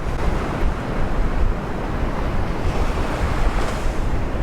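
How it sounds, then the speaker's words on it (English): Ocean waves breaking on a sandbar off an Alabama beach, a loud continuous roar of surf mixed with wind buffeting the microphone, with no voices. "I'm trying to get it right up against that sandbar out there where those waves are breaking the sandbar."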